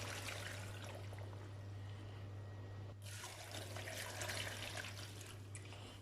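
Water pours steadily into a cooking pot while detox tea is being made, a continuous close splashing stream with a short break midway, faint overall with a low hum underneath.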